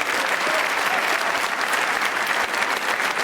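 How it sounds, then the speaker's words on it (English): Audience applause after a keynote talk at an academic symposium on AI, steady, dense clapping from a large room that fills the whole moment without a break. "Give him another round of applause."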